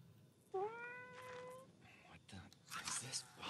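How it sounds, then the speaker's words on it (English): A cat in the horror video game Greyhill Incident gives one clear, drawn-out meow near the start, followed by quieter rustling and soft whispered or muttered speech. "It's a fucking cat."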